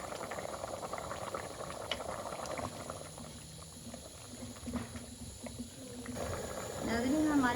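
Potatoes boil in a pot of water for a mutton stew, a continuous bubbling simmer with soft pops and hiss running throughout at close range.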